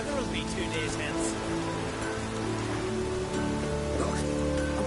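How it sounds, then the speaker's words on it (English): Steady rain falls in the video game The Witcher 3, a dense, constant patter and hiss filling the whole scene without letting up. "There's no point standing here in the rain."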